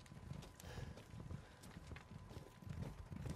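Goat hooves run in the video game Resident Evil Village, a quick, uneven patter of faint clattering footfalls that continues steadily throughout.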